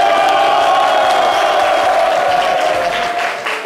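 A live crowd at a zouglou concert applauds and cheers for the band, with steady loud clapping and scattered whoops filling the whole stretch before easing slightly at the end.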